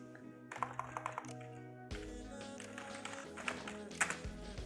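Keys clicking on a computer keyboard while pseudocode on logical operators is typed, in quick irregular bursts of taps over a steady tonal background hum, with no talking.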